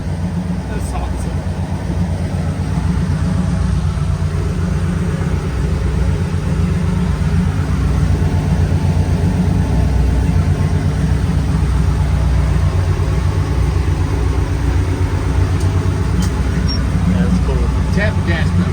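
The engine of the screen-used truck from the Jeepers Creepers movie runs steadily at close range, a constant low rumble with light throttle blips, while people talk excitedly inside the cab over it.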